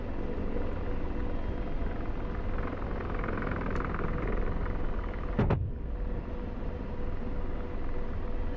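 Apache attack helicopter in a video game, a steady loud rotor and turbine rumble holding throughout, with a sharp metallic crack cutting through briefly near the middle.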